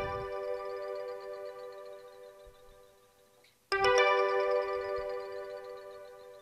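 An electronic organ's Soft Rain synth voice holds a sustained, bright electronic tone with a faint rain-like texture, fading quieter before a fresh, louder note enters and rings on, with no talking.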